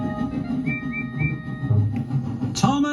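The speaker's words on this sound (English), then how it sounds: "Thomas is here," whistled Percy." Short tooting steam engine whistle from a children's animated train show, a few brief bright whistle notes followed by a louder rising blast near the end, over light background music.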